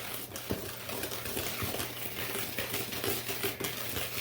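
Oreo brownie batter is whisked in a bowl, a continuous close-up wet swishing and patter with faint clicks of the whisk against the bowl, steady throughout.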